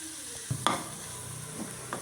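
A ground masala of coconut, garlic and fennel goes into a frying pan for a green broad bean curry. Soft sizzling plays under a couple of sharp utensil clicks and scrapes as it is stirred in.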